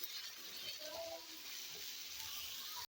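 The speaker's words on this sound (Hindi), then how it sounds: "तो देखिए गाजरें जो है वो हमारी फ्राई हो रही हैं।" Grated carrots fry in a pan for Kabuli pulao, giving a steady close sizzle with a bright frying hiss that runs unbroken until it cuts off abruptly.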